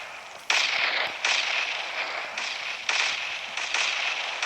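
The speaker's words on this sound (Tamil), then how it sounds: "பாருங்க, பாம்பெலாம் வெடிக்குது." A series of sharp, loud bomb blasts in the video game Hopeless Land with crackling tails, roughly five of them at irregular intervals, over a steady noisy background.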